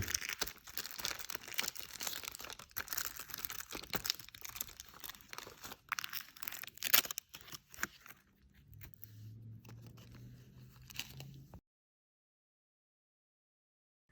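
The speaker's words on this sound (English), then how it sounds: "I tear out the wax paper from behind and clean up all the little pieces later." Wax paper being torn out from behind freshly stitched faux leather straps, a run of close, dry crinkling and ripping bursts that thins out toward the end before falling silent.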